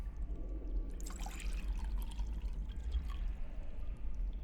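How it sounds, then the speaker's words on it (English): In The Excavation of Hob's Barrow video game, water is collected into a pot: a soft, quiet pour and trickle with faint splashes, heard alone at low level. "We have a pot, so can we collect some water?"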